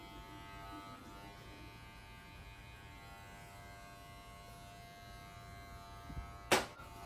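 Electric hair clippers with a half guard hum steadily and faintly while cutting hair for a brush-wave cut, a low, even buzz with one short, sharper burst near the end.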